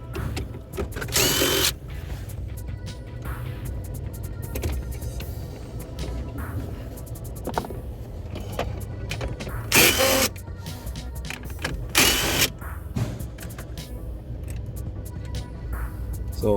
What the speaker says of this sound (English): I have to remove this bolt.